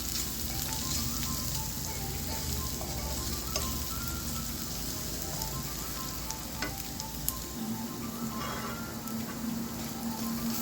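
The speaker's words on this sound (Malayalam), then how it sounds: "ഇതിലേക്ക് നമുക്ക് ഒരു 1/4 ടീസ്പൂണിൻ്റെ പകുതി മഞ്ഞൾപ്പൊടി ഇട്ട് കൊടുക്കാം. ഇതൊന്ന് ഇളക്കാം. മഞ്ഞൾപ്പൊടി ഒന്ന് മൂത്ത് വരട്ടെ." Turmeric powder fries with onions in hot oil for a cauliflower dish, giving a steady, moderate sizzle with occasional stirring clicks and scrapes throughout.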